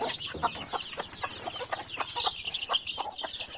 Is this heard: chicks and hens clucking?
yes